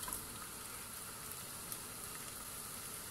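Onion and tomato paste frying together in a pan for Erzincan tarhana soup, a faint, even, continuous sizzling hiss with no pauses and no voices.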